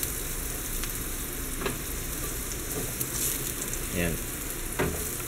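Garlic and butter sizzle in a pan, a steady close hiss with brief stirring scrapes, while a voice speaks a word over it.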